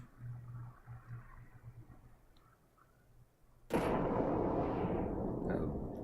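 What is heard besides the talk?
onion stinky bomb explosions in Final Fantasy XI video game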